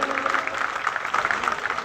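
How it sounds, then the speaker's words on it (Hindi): Audience clapping at a drama performance during the Khadipada fair, a dense steady patter of many hands filling the whole stretch at moderate volume with no clear speech over it. "जोर गोटे करताली हूँ"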